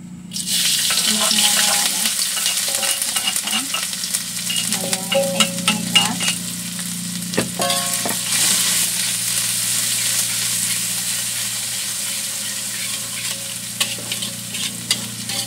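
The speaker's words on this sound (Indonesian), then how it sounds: "Kita numis kembang kol ya." Cauliflower is stir-fried in a pan with oyster sauce: a constant, close sizzle with scraping and clattering from stirring, busier in the first half and settling into steady frying.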